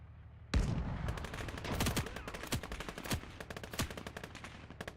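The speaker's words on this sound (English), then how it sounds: "I heard machine gun fire? Did you hear machine gun fire?" Machine gun fire in a war video game: rapid bursts of shots ring out after a sudden loud report, sustained rattling volleys with sharper individual cracks, fairly loud and without talk.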